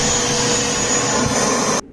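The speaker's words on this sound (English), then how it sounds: "Automatically it starts, it sucks in all the dirt all by itself." Samsung Jet 75 clean station sucking dirt out of a vacuum's canister, a loud, steady, close whooshing roar that holds evenly then cuts off abruptly near the end.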